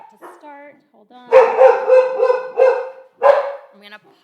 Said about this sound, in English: Barking is about to start.